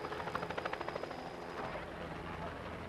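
American military helicopters arriving in Phnom Penh, Cambodia, their rotors thudding in a fast, steady rhythm that is strongest early and then blurs into a broad, continuous roar.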